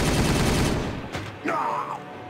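Dense volley of Warhammer 40000 battle fire fills the first second, a rapid roar of shots that cuts off, followed by a sharp crack and a whooshing, whining energy sound, with no clear talk.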